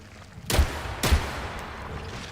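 Two loud, close gunshots ring out about half a second apart in the video game Atomic Heart, each a sharp crack followed by a short booming decay, with a quiet ambient bed between.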